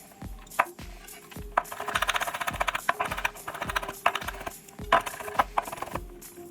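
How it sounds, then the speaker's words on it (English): A kitchen knife quickly dices peeled garlic on a cutting board, giving close, crisp taps in an uneven rhythm of roughly a dozen strikes with short pauses between bursts. "we are going to give it a quick dice"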